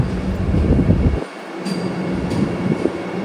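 A crowded DEMU express passenger train between Renigunta and Nandyal, India, rumbles past nearby with a steady, heavy roar, dropping briefly to a lull before the rolling noise resumes.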